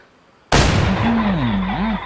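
A single loud shotgun blast aimed at birds in the hunting game Way of the Hunter, a sudden close boom after a quiet moment, followed by a decaying rumble and a high warbling bird call.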